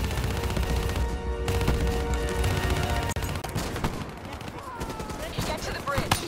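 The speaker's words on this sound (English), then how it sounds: "Give me some cover fire." Dense automatic gunfire from Call of Duty Black Ops 3 laying down cover fire, continuous loud bursts close by, with a brief break partway through before the shooting resumes.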